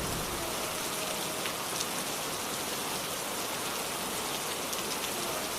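Steady rain falls on a village street, a dense even patter of drops that stays constant with no pauses and no voices.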